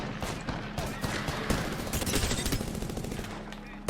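Dense video game gunfire from a competitive online shooter, sustained rapid bursts and overlapping shots filling the moment, with a player's voice talking faintly beneath.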